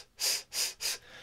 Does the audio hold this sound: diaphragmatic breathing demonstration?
yes